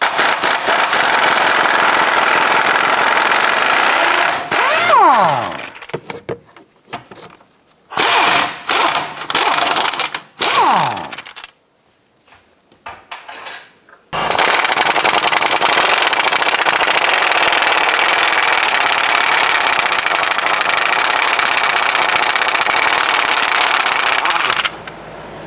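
A 21 mm control arm bolt being loosened and removed on a 2008-2013 Nissan Rogue, loud bursts of an impact wrench hammering with pauses in between, then a long steady whirring run.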